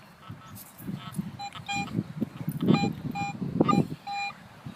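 Metal detector beeping from interference in an open park oval, repeated short electronic tones in irregular bursts, mixed with low rumbling handling noise close by.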